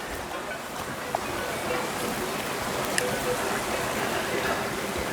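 A mountain stream in the Pyrenees runs steadily, a continuous broad rush of water that stays even throughout with a couple of faint clicks over it.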